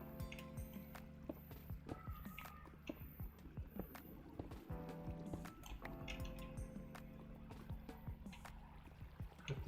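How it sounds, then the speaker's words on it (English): Water overflowing at regular intervals in a mining video game drips and splashes in repeated soft, wet patters over a low game background, with no talk. "Got these like water overflows at regular intervals."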